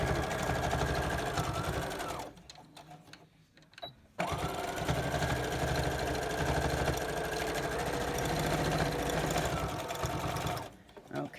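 Sewing machine stitching a cotton face mask with pleats and a pipe cleaner, a close, loud, steady motor whir and needle rattle that stops briefly partway through, then runs on before halting near the end.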